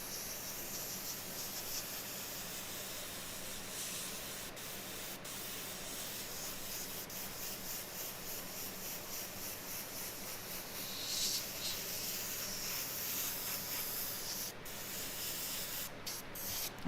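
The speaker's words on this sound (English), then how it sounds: "I'm going to spray at an angle this way so that my overspray doesn't come this way out of the shirt." An airbrush sprays paint onto a T-shirt in a steady, continuous hiss, close and even, with brief gaps and a few small clicks as the spray stops and restarts.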